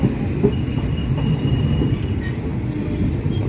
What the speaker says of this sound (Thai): ขบวนรถแอโรเร็วที่หนึ่งเจ็ดหนึ่ง เข้า สถานี อุบลราชธานีนะ